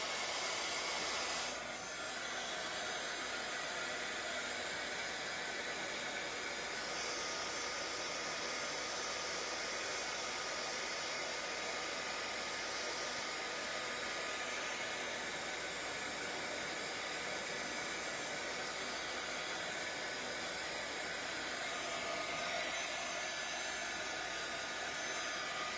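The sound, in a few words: hair dryer drying craft materials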